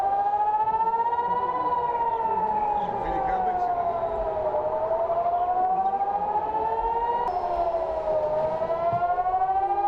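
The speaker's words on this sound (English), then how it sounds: "Air raid sirens in Israel tops this list at number 1." An air raid siren in Israel wails loudly and continuously, its pitch slowly rising and falling in long sweeps that fill the whole stretch, with a second siren tone joining near the end.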